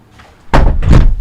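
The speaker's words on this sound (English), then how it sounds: "I'm going to shut the door because my neighbor is cutting his lawn" A door is pushed shut indoors: faint shuffling, then a sudden close, solid thud and rattling follow-through, loud and near, with no talking.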